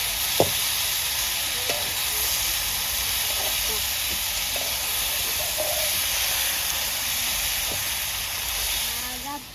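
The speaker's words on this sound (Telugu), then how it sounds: "మనం కట్ చేసుకున్న టమాటాలు వేసుకోవాలి." Chopped tomatoes frying in a pan, a steady close hiss and sizzle that holds throughout, with a few faint knocks and scrapes and a voice that may be talking quietly underneath.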